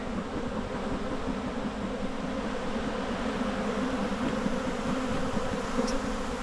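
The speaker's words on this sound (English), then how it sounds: "swarm will take off" Honey bee swarm buzzing steadily outdoors, a dense continuous hum of many insects, close and even in loudness throughout with no pauses.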